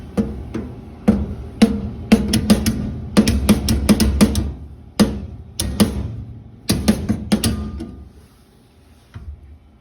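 A hammer strikes channel locks laid on a copper tie-in for a beverage filler. The sharp, close metallic knocks come in uneven clusters, then grow sparser and fainter toward the end.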